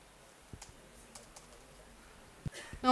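Sparse keystrokes tap on a computer keyboard while a Unix command is entered to run a program with GCC, a few faint isolated clicks followed by a louder burst at the end.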